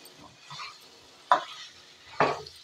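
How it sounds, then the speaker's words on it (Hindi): Apple pickle cooking in a pan is stirred with a soft scraping that builds to two sharp clanks of a spoon against the pan, over a faint sizzle. "अब इसको 2-4 मिनट के लिए हम ऐसे इसमें पकाएंगे।"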